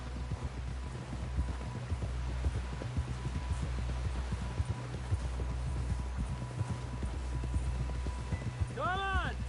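Horse hooves clip-clop steadily in Red Dead Redemption 2, a rhythmic trot of close, distinct hoofbeats over a low rumbling background, with a brief whinny-like cry near the end.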